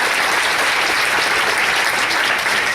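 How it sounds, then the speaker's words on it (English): A crowd applauds at an event, sustained dense clapping at steady volume from start to finish with no talking over it. "big round of applause for everybody who worked so hard"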